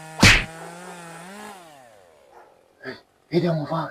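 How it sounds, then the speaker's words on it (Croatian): A chainsaw cutting wood at night drones in the distance, its pitch sliding downward, after a sharp knock; a voice speaks briefly near the end. "Eno i neko pili drva s potvorkom u ovo vrijeme."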